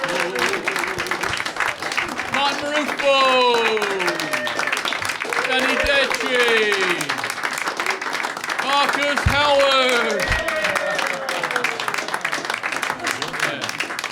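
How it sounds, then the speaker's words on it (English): A live comedy-show crowd gives a round of applause, a steady bed of clapping running throughout beneath a host calling out performers' names, with whoops and cheers rising above it. "Round of applause, round of applause, round of applause."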